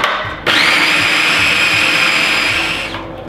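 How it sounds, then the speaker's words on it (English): A kitchen blender whirs loud and close as it blends onion and two cloves of garlic, starting abruptly, running at a steady high pitch for a couple of seconds, then winding down. "So I'm going to blend all of this together and add this to the turkey meat."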